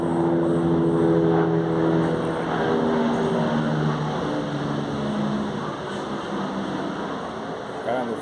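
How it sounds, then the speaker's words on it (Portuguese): A helicopter passes overhead, its steady rotor and engine drone loud and continuous beneath someone speaking close by. "Helicóptero."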